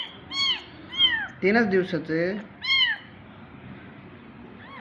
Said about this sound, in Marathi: मला कालच असं एक मांजरीचं पिल्लू भेटलं